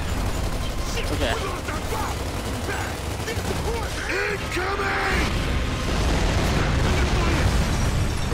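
Mortar shells exploding in the video game Gears of War 2, booming blasts and bursts of gunfire layered over a dense, loud battle din, with brief shouted voices in the mix.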